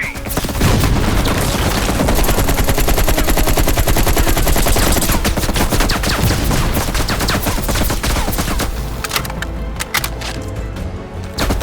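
Heavy machine gun fire in the Call of Duty Black Ops Cold War campaign rattles in loud, rapid sustained bursts layered with booming impacts and explosions, a dense continuous barrage that thins toward the end.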